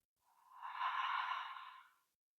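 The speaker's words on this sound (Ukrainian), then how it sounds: "Можна зробити паузу і тепер плавний видих." A single slow, smooth exhale during a calming breathing exercise swells gently, holds steady and fades over about two seconds, close to the microphone with no talk.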